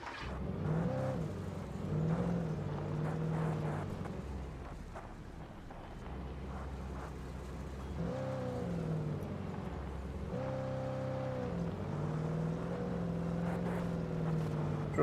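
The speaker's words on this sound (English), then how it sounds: "let's carry on driving for a bit" Car engine droning steadily in Alan Wake Remastered, a continuous low hum with rising and falling pitch as the vehicle drives along, at a moderate level with no speech.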